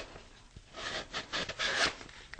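Sanding a model rocket bulkhead: a few short, soft rasping strokes of abrasive on the part, close and quiet, with small clicks in between.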